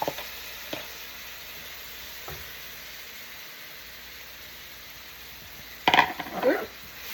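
Chopped tomatoes drop into a hot pan and sizzle, with a low steady hiss throughout, a few faint clinks and a brief loud burst of frying near the end, no voices.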